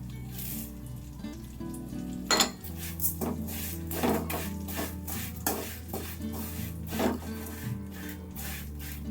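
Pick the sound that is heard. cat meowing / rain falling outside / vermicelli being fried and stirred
vermicelli being fried and stirred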